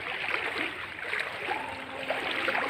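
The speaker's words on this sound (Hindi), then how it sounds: "पानी में भी चल रहा है हम लोग।" Feet wade through floodwater covering a road in Assam, making continuous soft sloshing and splashing at moderate volume. Faint outdoor background surrounds the water sounds, with no voices heard.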